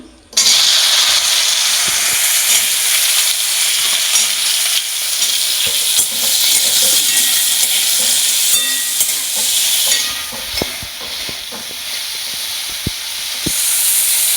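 Okra hits hot oil in a kadai and fries with a loud, steady hissing sizzle that runs throughout, broken by occasional stirring clicks and scrapes.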